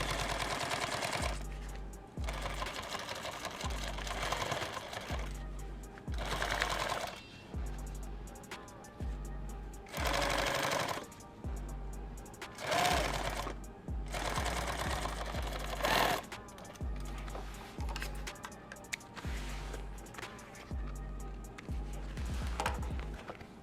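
A sewing machine stitches a kit bag in repeated bursts of rapid mechanical chatter separated by short pauses, some runs longer and louder than others.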